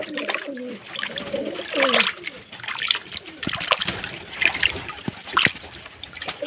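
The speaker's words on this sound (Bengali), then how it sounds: "এবারে ভালো করে মিশিয়ে নেব" Medicine being stirred into water for pigeons, splashing and trickling in irregular bursts while pigeons coo nearby and a voice talks intermittently.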